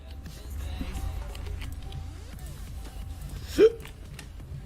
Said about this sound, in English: He just gave a hiccup.